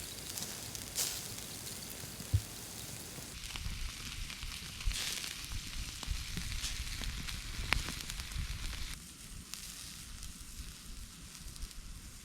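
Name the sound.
bacon-wrapped beef medallions sizzling on a camping grill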